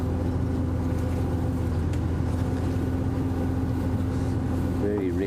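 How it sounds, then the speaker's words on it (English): A safari vehicle's engine idles steadily in the bush at sunrise, a constant low rumbling drone with a humming tone, close and unbroken, while a voice speaks over it. "Very reticent to turn off Rusty's engine right now."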